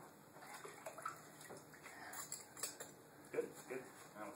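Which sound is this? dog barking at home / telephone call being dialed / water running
water running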